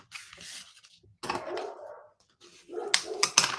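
Dogs in a residential neighborhood bark in scattered bursts from a distance, with a few sharp, louder yelps toward the end and no talking over them.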